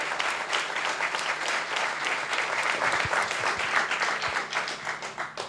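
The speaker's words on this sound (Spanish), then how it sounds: "Fuerte aplauso." An audience at a book presentation gives a strong round of applause, dense continuous clapping from many people at close range, with faint murmurs underneath.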